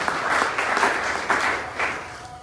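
A church congregation at an Easter seminar breaks into applause in waves, several swelling bursts of clapping filling a large room for a couple of seconds.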